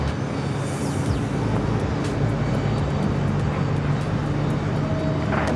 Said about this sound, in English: should be seeing this Aeromexico Dreamliner heading in, should be taxiing right by us.